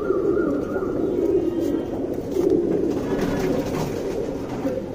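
Tournament pigeons in Bangalore coo steadily, a dense overlapping chorus of soft, low throaty calls lasting the whole stretch, fairly close and loud, with no talking over it.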